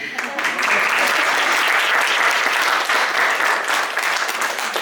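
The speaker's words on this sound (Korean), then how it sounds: "네, 박수." A crowd claps steadily and loudly for several seconds, a dense continuous patter of applause filling the whole stretch.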